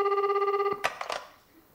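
A telephone ringback tone pulses steadily for under a second, then cuts off with a few clicks as the call connects, close and clear with no talking.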